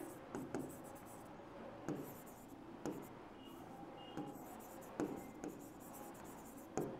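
Pen scratching on paper during an electrical measurement lesson on moving-coil meters: faint, steady writing strokes in quiet room with occasional soft taps.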